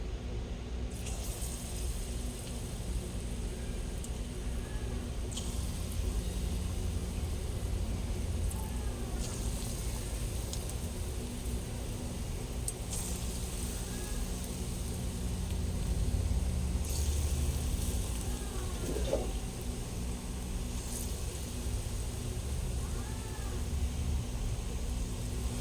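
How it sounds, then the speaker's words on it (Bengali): Palm fritter balls (taal bora) dropped into hot oil, with a steady, even sizzle and bubbling that runs unbroken from start to finish and swells slightly midway. "এবারে আমি আবার তালে বড়াগুলো ছেড়ে দিই"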